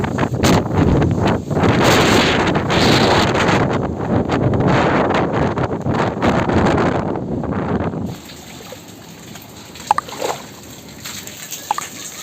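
Strong Cyclone Remal wind roars and buffets the microphone for about eight seconds beside mango trees, then drops to a quieter outdoor hush with a few faint knocks.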